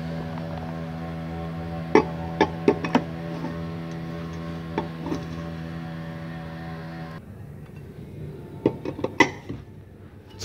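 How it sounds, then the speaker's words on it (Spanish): Wheel nuts and pressure washers coming off a Bajaj TVS mototaxi wheel: a series of sharp metallic clinks and ticks, close and fairly quiet, over a steady engine or machine hum that stops partway through. "Sacamos las cuatro tuercas y su guacha a presión."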